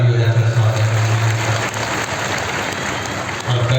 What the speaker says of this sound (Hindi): एक बार जोरदार ताली हो जाता है स्वागत